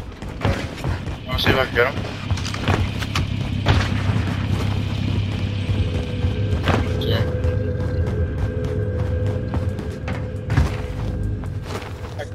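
Deep booms and thuds from a frag grenade and gunfire ring out in Call of Duty Cold War Warzone, several sharp bursts over a rumbling game soundscape while players talk over the action.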